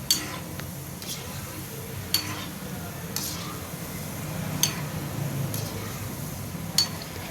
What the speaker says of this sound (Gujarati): આ રીતે આપણા ગુલાબજાંબુ સરસ રીતે તળાવા લાગ્યા છે